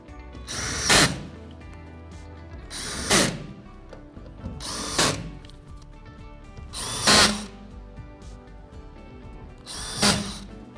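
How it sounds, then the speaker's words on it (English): A power drill or driver tightens bolts around a paint booth light fixture in five separate short whirring bursts spaced about two seconds apart, close and fairly loud over a quiet background. "Now that all of our bolts are started, we're ready to tighten them up."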